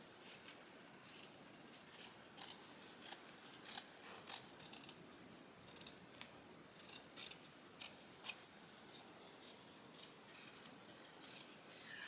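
Scissors snip through stretch fabric for a gown mockup, a steady series of about twenty short, crisp cuts spaced roughly half a second apart, close and fairly quiet with no talking.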